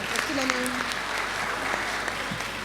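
Audience applause at an annual lecture, a steady broadband wash of clapping filling the room throughout, with a voice briefly audible over it.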